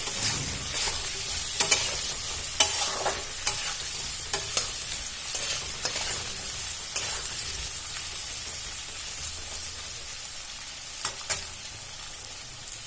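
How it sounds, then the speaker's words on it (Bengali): Potatoes frying in oil in a village-style Bengali kitchen, a continuous close sizzle punctuated by regular sharp clicks of a spatula stirring against the pan. "আলুগুলো দেখুন ভাজা হয়ে এসছে, আর একটু ভাজবো।"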